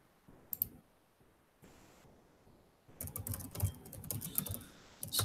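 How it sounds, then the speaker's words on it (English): Typing on a computer keyboard during an online group coaching call: quiet scattered keystrokes at first, then a denser, louder burst of rapid clicking toward the end, close to the microphone with no talking. "Let me type that in the chat here."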